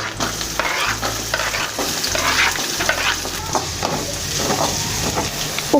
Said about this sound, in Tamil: அடுத்தது பொடியாக நறுக்கி வச்ச பெரிய வெங்காயம் ஆட் பண்ணிக்கிறேன்.